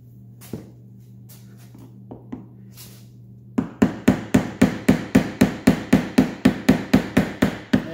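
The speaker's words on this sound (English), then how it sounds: "Screwdriver here, give it a little tap." Screwdriver tapped to loosen the fuel sending unit on a John Deere 445 mower, a few scattered knocks followed by a rapid regular run of about fifteen crisp close metallic taps, no talk.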